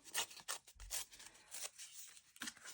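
Painted gel-print paper being torn up by hand in several short, rough ripping strokes, close and quiet, with no voices.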